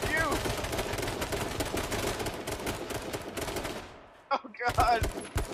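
Rapid gunfire from the battle royale game King of the Kill, dense continuous bursts crackling nonstop for about four seconds, then a brief gap before a few louder shots return, with excited voices shouting over the shooting.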